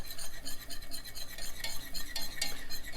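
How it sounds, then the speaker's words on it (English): A whisk scrapes rhythmically against a pan as flour is worked into melted butter for a cheesy beer sauce, giving quick, steady rasping strokes up close with no voices. "we want to add in the same amount of flour and whisk it really good while you're putting it in there"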